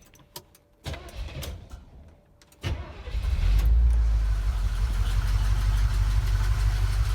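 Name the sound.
car engine running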